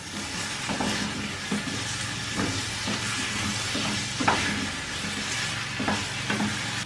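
Rhubarb sizzles and crackles in a pan of darkening caramel while being stirred, a steady close frying hiss broken by scraping stir strokes, with no voices.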